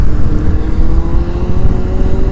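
A Suzuki DR 350 enduro motorcycle engine runs loud and close, a continuous throaty revving roar with a slowly rising pitch and no talk over it.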